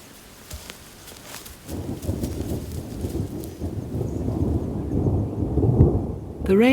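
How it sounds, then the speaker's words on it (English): Rain falls steadily on the dry plains around Moru, with a deep rolling rumble of thunder that builds and swells, loud and continuous over the downpour. "The rains are generous now."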